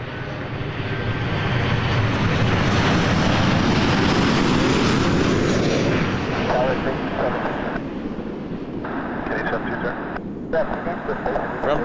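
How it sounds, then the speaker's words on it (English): A Boeing 737-800 airliner arriving from Tampa at Toronto Pearson roars loudly overhead, swelling to a peak and then fading away. Voices can be heard talking underneath the engine noise. "From Tampa, 737-800."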